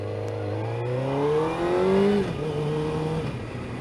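A Suzuki GSXR 600 motorcycle fitted with a new chain revs up through the gears, engine pitch climbing and dropping in steps at each shift, loud and close with a steady drone and no voices.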